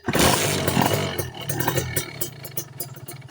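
A motorcycle engine, in first gear during a kick or push start, roars loudly as the throttle is opened, then the revs fall into a rougher, pulsing putter that fades slightly.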